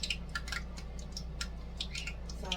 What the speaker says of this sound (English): okay, I'm getting bubbles on my grease